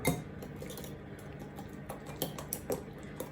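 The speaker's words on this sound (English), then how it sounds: "I tend to just use a whisk to mash stuff" Bananas are mashed with a metal whisk in a bowl, giving a quiet run of soft scraping strokes and several sharper clinks against the bowl toward the end, with no talking.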